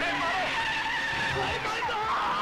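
A car's tyres squeal and skid under hard braking, a sustained high screech with wavering pitch mixed with engine noise and background voices.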